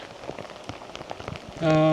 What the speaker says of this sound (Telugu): ఇదేంటి సడన్గా వాన పడుతుంది